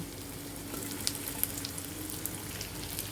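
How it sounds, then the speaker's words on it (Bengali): Fish pieces added to softened diced onions sizzle steadily in a pan, a continuous moderate frying hiss with a few faint crackles and pops, no voices. "এখন আমরা বেঁচে রাখা ওই মাছগুলো এখন দিয়ে দিব"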